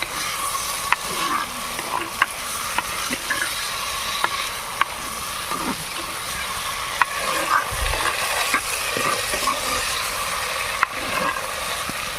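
Small fish pieces go into a pan of cooked tomato, giving a steady, moderately loud frying sizzle with scattered sharp clicks and pops throughout, and no talking.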